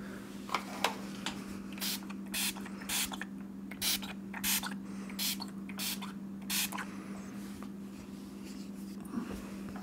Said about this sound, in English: So it says spray a light layer and allow for 2 to 3 minutes to dry.